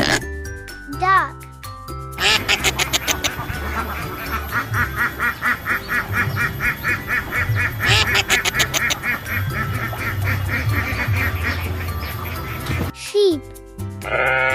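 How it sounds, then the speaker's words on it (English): Ducks quack in a dense, rapid chorus lasting about ten seconds, loud and close, over a musical backing. "Duck."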